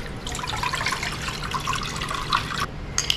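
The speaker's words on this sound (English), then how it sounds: "we're gonna add about 3 cups of hot water" Hot water poured into a pot of beef pot pie filling with cubed potatoes, a steady close splashing stream with bubbling gurgles throughout.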